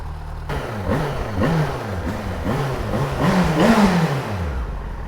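A 2006 Yamaha FZ6 inline-four motorcycle engine revving repeatedly, the pitch rising and falling in short blips before one longer climb and a dropping fall, loud and close with steady road rumble.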